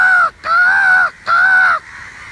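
Three long, harsh crow caws ring out from a tree, loud and near, in an even rhythm with short gaps, followed by a quieter tail.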